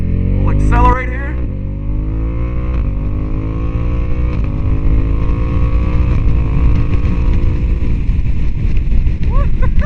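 A motorcycle engine revs steadily upward as the bike accelerates over sand and dirt, its pitch climbing in a long continuous sweep, loud and close with wind buffeting the microphone.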